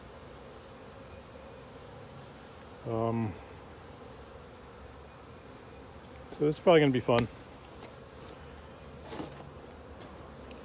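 Irritated honey bees buzz around an open hive during an inspection, a faint steady hum running beneath a person talking in short bursts.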